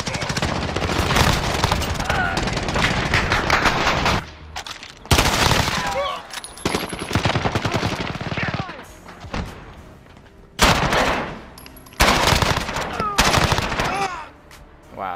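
Multiplayer team deathmatch gunfire in Call of Duty: Modern Warfare: rapid automatic bursts rattle loudly in long stretches, broken by brief lulls before volleys resume, with faint voices mixed under the shooting.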